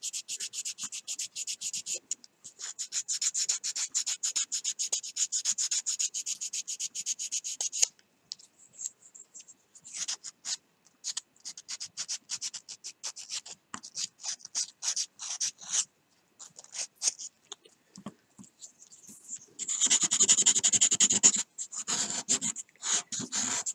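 A hand-carved wooden fishing lure rubbed back and forth on sandpaper, rapid scratchy strokes in bursts separated by short pauses, close and fairly loud, with a vigorous stretch near the end.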